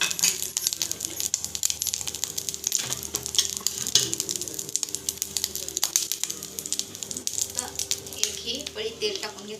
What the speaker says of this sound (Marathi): पळी तेल टाकून घेतलं बघा